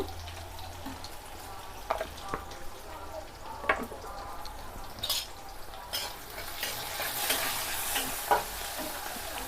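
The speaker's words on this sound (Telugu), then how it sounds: "ఇప్పుడైతే కొంచెం బాగా ఆనియన్స్ ఫ్రై చేసుకోవాలి" Onions and green chillies frying in a pan with a soft, steady sizzle and occasional stirring scrapes and clinks, fairly quiet and close, with no voices.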